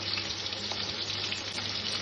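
Green chillies added to a pan of already well-fried ingredients, crackling in a steady, dense sizzle that holds evenly throughout, fairly quiet and close, with no talking.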